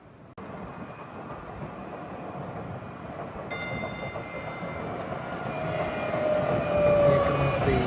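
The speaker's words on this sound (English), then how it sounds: "Here comes the DART train, the Dallas Area Rapid Transit train." A Dallas Area Rapid Transit light-rail train pulls in downtown, its steady rumbling roar building gradually louder with high squealing wheel tones, a continuous approach under faint background.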